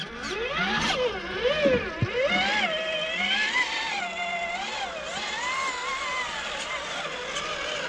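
An off-road vehicle motor revs up and down in wavering surges while straining, its pitch rising and sagging unevenly as the engine sounds weak, loud and close throughout.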